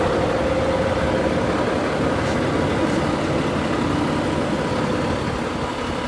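A parked truck's engine idles steadily nearby, a continuous low rumble with a faint hum running unbroken throughout.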